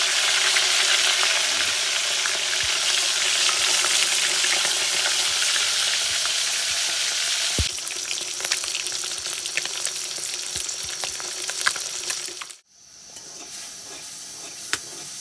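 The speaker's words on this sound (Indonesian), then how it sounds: "kita goreng" Cleaned fish fries in a pan over a cooking fire at a forest hut, with loud steady sizzling and hiss plus occasional stirring clatter, dropping sharply near the end before resuming more quietly.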